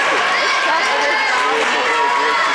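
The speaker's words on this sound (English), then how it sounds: "Zebra crowd now starting to get into it. Nice, loud crowd on hand." A loud, dense crowd roars and cheers in a gym during a high school sectional volleyball match, a sustained wash of voices close and continuous throughout, with a commentator talking over it.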